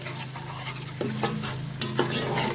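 Ground spice paste frying in a pan for beef paya, a close, steady sizzle with a few scraping stirs of a spoon against the pan, no voices.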